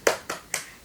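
Three sharp hand claps in a quick, even rhythm, part of a 'tepuk semangat' clap chant in a Year 3 primary school lesson, close and clear with no voices.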